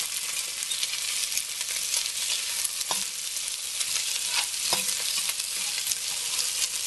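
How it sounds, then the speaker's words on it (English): Celery and onion sizzle and fry in oil in a pot for vegetable soup while a spoon stirs them, a steady close crackle broken by a few soft scraping clicks, with no talking. "I'm going to add the celery and onion first. And just get that moving around in there."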